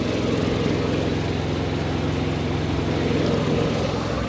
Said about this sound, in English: I know that motor's pretty loud.